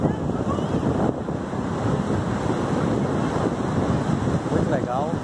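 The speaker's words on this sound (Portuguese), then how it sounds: "As ondas aqui são muito grandes." Large ocean waves breaking on the beach at Praia Grande in Arraial do Cabo, a loud, continuous roar of surf with heavy wind buffeting the microphone and no clear voices.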